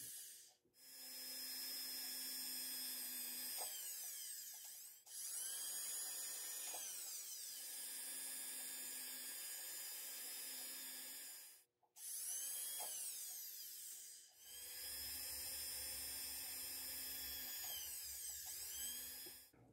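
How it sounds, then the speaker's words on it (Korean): A small rotary drill whines at high speed as it bores little holes under the prong seats in jewelry carving wax, in several long bursts separated by brief pauses. "작업의 편의성을 위해서 발자리 그대로 아래쪽에 구멍을 살짝 뚫습니다"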